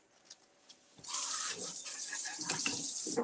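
After a few faint knocks in a quiet kitchen, a tap opens into a loud steady stream of running water while vegetables are washed beneath it, with splashing and rubbing under the flow.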